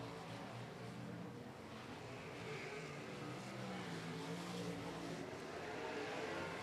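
A dirt track race car engine drones during a race at Golden Triangle Raceway Park, a distant, steady rumble as the car rolls smoothly around the bottom of the oval, faint and continuous without talk.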